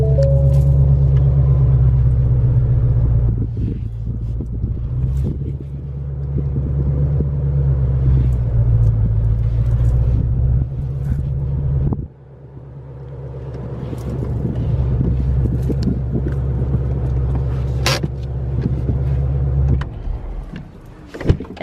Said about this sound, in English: let me just pull the car in the garage